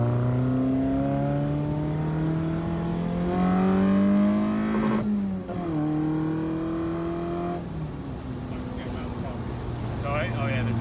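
A Ford XR2 fitted with throttle bodies revs hard, its engine note climbing in rising sweeps and then dropping off between gear changes, heard close from inside the car with voices underneath.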